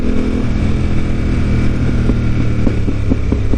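Ducati V-twin motorcycle engine droning steadily while riding on a Japanese road, a loud, constant throbbing hum with faint pulsing rises toward the end.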